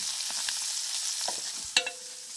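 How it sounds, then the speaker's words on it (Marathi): Small pichlandi river fish fry in a pan of hot oil with a soft steady sizzle, punctuated by a sharp metallic clink of a utensil against the pan near the end. "तर आता हा शेवटचा लॉट आहे मग पिचरांडे मासा आहे ना तो पूर्ण फ्राय होईल"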